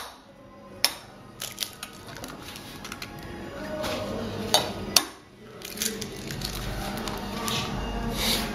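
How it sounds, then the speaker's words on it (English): Two eggs cracked into a metal mixing pot for egg drop soup, with a few sharp taps and crunchy cracks followed by soft wet squishing, close up and without talk. "Now you're gonna take 2 eggs, crack them in a mixing pot."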